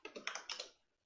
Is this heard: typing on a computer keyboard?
yes